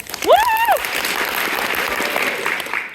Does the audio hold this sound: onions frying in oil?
no